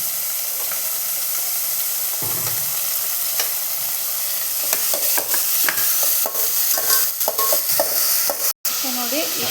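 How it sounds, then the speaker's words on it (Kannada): Finely chopped vegetables fry in hot oil in a pan for vegetable rice bath, a steady close sizzle and hiss with intermittent scraping and stirring clatters throughout. "ಈಗ ಸಣ್ಣದಾಗಿ ಹೆಚ್ಕೊಂಡಿರೋ ವೆಜಿಟೇಬಲ್ನ ಕೂಡ ಅದಕ್ಕೆ ಹಾಕಿ ಈಗ ಫ್ರೈ ಮಾಡ್ಕೊತೀನಿ"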